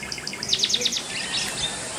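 A white-browed bird, black above and white below with a long black tail, calls in the Western Ghats as a quick run of bright chirps around the middle of the clip, moderately near, over a soft outdoor hiss.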